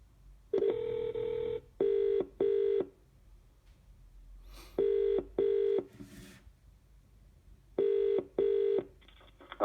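Outgoing call placed from a Google Home in the UK, ringing with a double-burst British ring tone that repeats three times with pauses between, clear and moderately loud, no talking.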